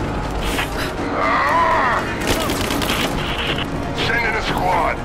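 A heavy shot booms and echoes in Rise of the Tomb Raider during an ending battle, followed by rumbling and crackling debris, with shouted voices over the top.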